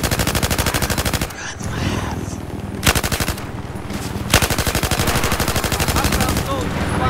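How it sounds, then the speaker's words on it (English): Automatic and single gunfire in the video game Battlefield 4, a close, loud, rapid rattling burst through most of the stretch with brief pauses and sharp isolated shots between volleys. "Why are people shooting at me?"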